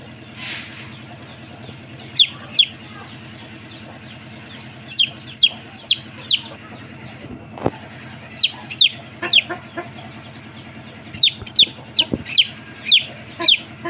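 Huddled, unwell young chicks give high, thin cheeps in short clusters of two to four, fairly close, over a low steady background hum.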